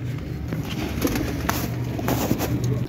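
Pigeons coo softly and repeatedly against a steady background hum, close by, with no talking.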